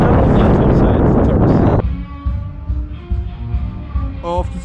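Cold wind buffets the microphone during a snowkiting trip in the Flatruet and Funäsdalen area, roaring loud and close for nearly two seconds, then dropping to lighter, gusty rustling with faint tonal sounds over it.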